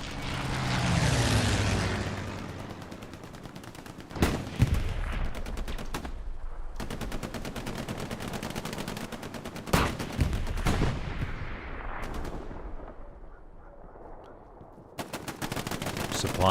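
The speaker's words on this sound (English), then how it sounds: "The strafing run, it was a big strafe." Aircraft strafing run in the Hell Let Loose game on the Carentan map, with long dense bursts of rapid machine-gun fire and sharp impacts, loud and sustained, and a few brief pauses between volleys.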